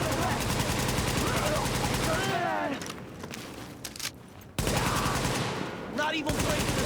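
Gunfire in a video game, rapid bursts of shots that keep up loud and close, break off into a quieter stretch, then resume, with a voice talking over the action.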